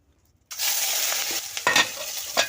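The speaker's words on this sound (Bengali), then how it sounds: "আমার কড়াইতে তেল গরম হয়ে গিয়েছে প্রথমে মাছগুলো ভেজে নেব" Singhi fish drop into hot oil in a wok and fry with a sudden loud hiss that settles into a steady close sizzle with sharp spattering pops.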